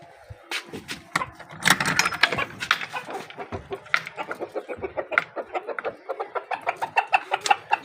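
Several chickens inside a cage cluck close by in a busy, fast rhythm of short, overlapping calls that keep going steadily.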